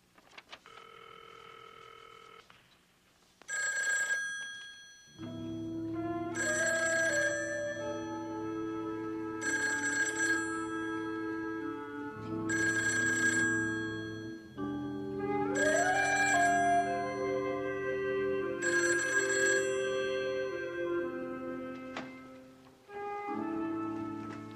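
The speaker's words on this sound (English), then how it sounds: "It's ringing." A telephone rings in repeated bursts from about five seconds on, each ring a bright warbling bell tone separated by short pauses, heard close and clear over a quiet room after a brief dial or line tone.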